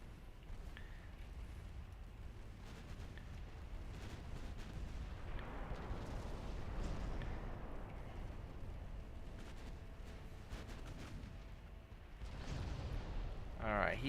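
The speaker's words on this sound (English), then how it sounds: "Take that. Eat secondary guns." Secondary guns on warships firing in the naval strategy game Ultimate Admiral Dreadnoughts, rumbling booms and crackling blasts running together over a dense wash of battle noise, with someone talking over it.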